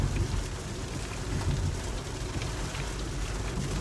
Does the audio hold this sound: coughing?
no